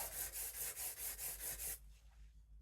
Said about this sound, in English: I'm sharpening this figure 8 style on this same piece of 400, just polishing up that